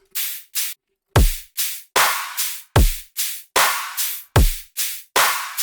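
A steady, punchy drum loop of booming kicks and bright layered claps with short echoing tails, loud and rhythmic, with no voices.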